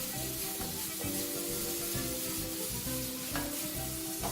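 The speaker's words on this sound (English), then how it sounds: "I'm just going to add my pineapple. So it should actually have that sizzle when it goes in." Pineapple pieces sizzle and fry in caramelised brown sugar in a pan, a steady close hiss with occasional scraping as the fruit is tossed and stirred.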